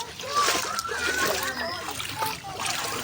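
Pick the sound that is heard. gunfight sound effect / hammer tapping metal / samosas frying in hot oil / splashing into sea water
splashing into sea water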